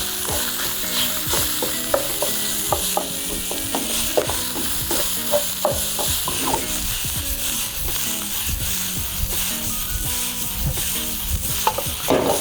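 Leftover rice stir-fried in plenty of oil with shallot, ginger and garlic, a steady loud sizzle from the pan with frequent scraping and clinking of a utensil as it is stirred and broken up, no talking.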